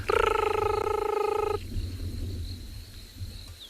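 A banded rubber frog gives a loud, high-pitched, steady trill for about a second and a half, then stops, leaving a low background rumble and a faint distant whistle.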